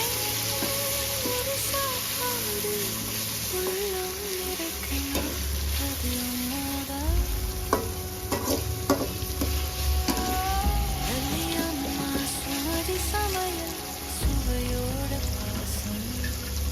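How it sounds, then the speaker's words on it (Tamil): Tomatoes and onions sauté in a pan for a spicy mutton boti fry, with a steady close sizzle and repeated stirring scrapes throughout. Tonal clinks and tones sit over the frying, and no one speaks. "தக்காளி வெங்காயம் நல்லா வதங்கணும்"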